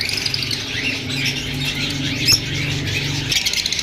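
Caged Fischer's lovebirds at a Sunday bird market in Bahawalpur keep up a dense, continuous chatter of shrill squawks and chirps, with a few sharper calls standing out near the listener.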